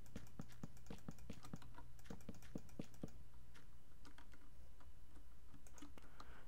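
Keys clicking on a faulty new computer keyboard during a Minecraft session, a run of sharp, evenly spaced taps that thins out and turns more scattered, fairly close and alone with no voices.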